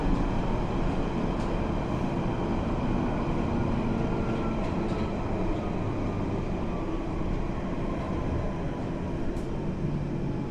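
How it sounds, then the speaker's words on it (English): London Underground Central Line train at a platform, giving a loud steady roar and rumble that lasts throughout with no gaps and no speech. "Train and the platform."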